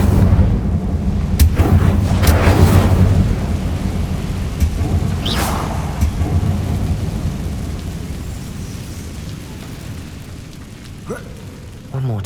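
An Incendio fire spell cast in the Hogwarts Legacy video game erupts with a loud, deep rumbling roar and crackling bursts that slowly fade, with further magical flares near the end.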